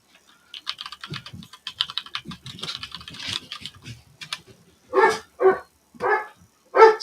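Dogs bark loudly in several sharp, well-spaced barks near the end, after a stretch of rapid computer keyboard typing close by.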